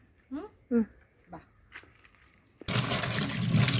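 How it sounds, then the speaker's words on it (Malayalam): Water gushes steadily from a tap while a purple yam is rinsed clean, starting abruptly after a few brief spoken words and continuing as a loud, broad splashing stream. "നമുക്കത് കഴുകി വൃത്തിയാക്കി എടുക്കാവേ"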